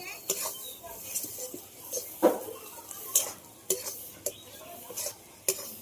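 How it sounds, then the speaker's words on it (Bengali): Spoon stirring fried dried red chilies and garlic into a mashed roasted pointed gourd bharta, giving a series of separate scrapes and clinks against the bowl or pan at a steady pace, with faint background noise. "ভাজা শুকনো লঙ্কা রসুনটা দিয়ে দেবো ভর্তার মধ্যে দিয়ে আমি একটু নেড়ে নেব"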